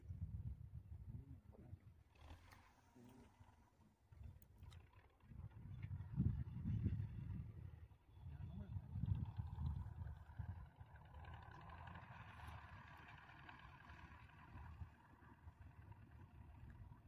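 Tractor engine running in a wheat field on a mountain pasture, a steady low rumble that swells and fades over the span, mid-distance with outdoor wind noise and no talk.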